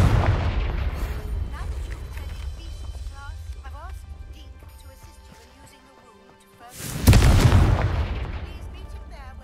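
The Confringo blasting spell goes off in the wizarding game Hogwarts Legacy, a loud booming explosion that bursts suddenly and rumbles away, after a stretch of quieter magical tones and effects.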